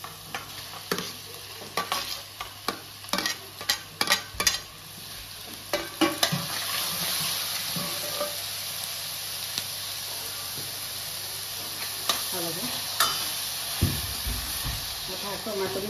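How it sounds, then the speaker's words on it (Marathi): Chopped tomato frying in a pan with capsicum for pav bhaji, giving a steady sizzle broken by repeated spatula scrapes and clacks that come in quick bursts early on and then settle into a continuous hiss. "आता ह्याच्यामध्ये मी हा चिरलेला टोमॅटो टाकते."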